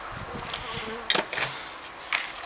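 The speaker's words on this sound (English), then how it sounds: "I got ants on the floor and bees in the air." Bees buzz in the open air near spilled dog food, a fluttering drone with a few passes sweeping close by, loud and near, with no talk.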